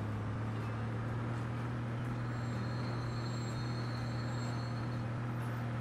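A train pulling into a station in the video game Transport Fever, a steady low rumble with a faint high squeal above, continuous and fairly quiet with no talk.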